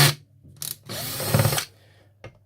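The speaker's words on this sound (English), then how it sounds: "Unscrew these 4 screws" A power screwdriver whirs in short bursts while removing screws from a Uconnect Android car head unit during installation, one brief spin then a longer close run, followed by a small click.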